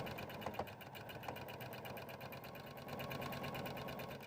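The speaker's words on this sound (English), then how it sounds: "Let's go sew on that line." A sewing machine stitches the seam line of a pillow accessory, giving a fast, even mechanical whirring chatter that runs steadily throughout at close range, with no talk.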